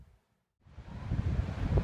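Gusty wind on a coastal headland of the South West Coast Path roars into a microphone after a brief near-silence, building to a steady, loud buffeting rush with low rumble.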